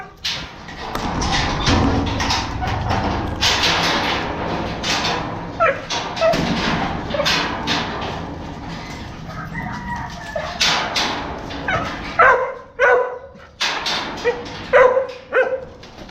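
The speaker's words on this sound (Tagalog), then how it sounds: "Makulit ko yung aso." Dog barking excitedly at home, with a rooster crowing and chickens clucking nearby, the barks coming in short loud bursts.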